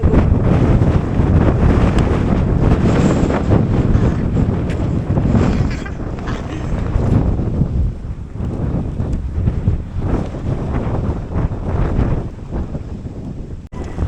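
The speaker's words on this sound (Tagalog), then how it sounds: "Ang lakas ng hangin." Strong wind buffets the microphone in a continuous loud roar, gusting and rumbling throughout, with no talking.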